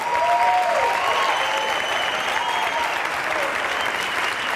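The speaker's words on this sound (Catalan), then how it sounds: "Fort aplaudiment per a dos dels millors figurinistes" An audience at a performing arts awards ceremony applauds two costume designers, a loud, continuous roll of clapping that stays full from start to finish, with faint voices mixed into it.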